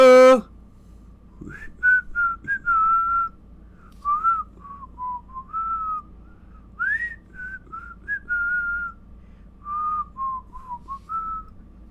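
A person whistles a slow, wandering tune in clear pure tones, phrase after phrase with short pauses, close and loud over a quiet low hum after a brief opening sound.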